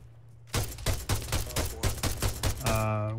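Rapid bursts of automatic gunfire from Arma 3 cover fire on a hill, a dozen loud, close shots in quick rhythm after a brief quiet start, ending in a ringing tail.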